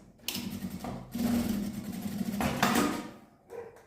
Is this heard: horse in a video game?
no